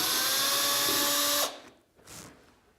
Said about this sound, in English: maybe the hole will look better if we drill from the inside out